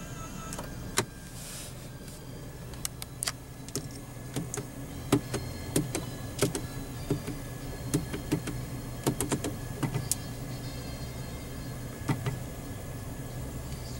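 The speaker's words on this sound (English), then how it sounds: "Power tilt and telescoping steering wheel." A power tilt and telescoping steering wheel motor in a 2014 Mercedes-Benz E350 whirs faintly inside the cabin, broken by a long series of sharp small clicks and knocks at an irregular pace.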